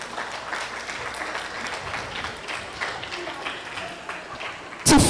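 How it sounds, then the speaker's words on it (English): Audience applause at a culture and sustainability roundtable closing, a steady, dense wash of clapping from a crowd that holds evenly for several seconds, with a brief louder burst near the end. "Let's give a warm round of applause to our speakers."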